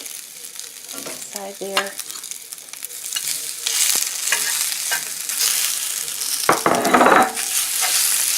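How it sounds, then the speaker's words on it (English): Pork frying in a hot oiled skillet over a medium flame gives a steady loud sizzle, with stirring scrapes and clatter of the utensil against the pan throughout, and a brief spoken remark near the start. "You can hear that skillet's really hot."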